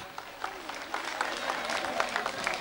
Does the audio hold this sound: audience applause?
yes